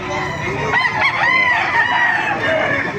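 A rooster crows once at a market in Baliuag, a loud, drawn-out call close by, with faint background chatter and farmyard noise.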